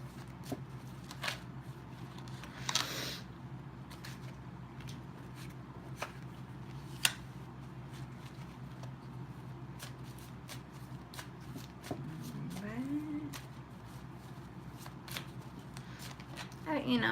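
Tarot cards being shuffled by hand, soft riffling and flicking bursts repeating through the stretch, quiet and close with a faint background hum.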